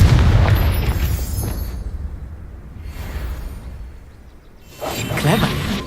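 A Confringo fire spell explodes in the Hogwarts Legacy video game, a loud booming blast with a rumbling tail, followed by a quieter lull and a second burst of energy near the end.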